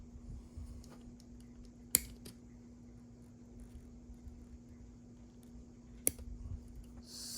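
Two sharp snips as plastic ears are clipped off a bumper mount on an AMT 1950 Ford Convertible model car kit, near and isolated, about four seconds apart over a steady low hum.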